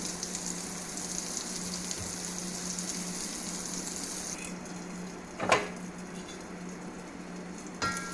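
Slices of suran, elephant foot yam, fry in a pan with a soft, steady sizzle that thins out midway, broken by a sharp clatter of the pan and a brief knock near the end.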